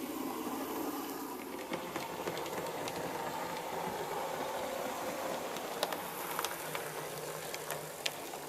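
A model railway locomotive runs on an Austrian-style layout built in a loft, giving a steady, continuous mechanical hum and rumble with a few sharp clicks near the end and no talking.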